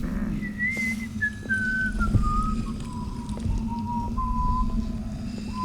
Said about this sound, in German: Wo pfeift der?